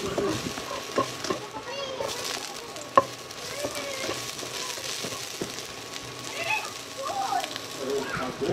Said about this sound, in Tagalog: Gisa lang natin yung ating bawang at sibuyas.